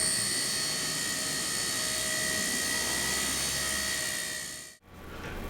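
A small Nano CPX collective pitch RC helicopter hovering, its high-pitched rotor whine holding steady nearby, a constant buzzing drone that cuts off abruptly near the end.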